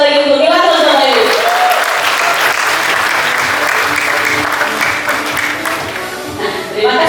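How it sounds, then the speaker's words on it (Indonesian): An audience breaks into loud, sustained applause at a Milagros product presentation, with a voice briefly audible at the start as the clapping swells, then slowly fades. "Aplaus sekali lagi untuk Milagrus Bapak Ibu."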